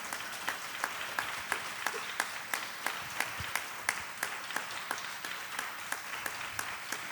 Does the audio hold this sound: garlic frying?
no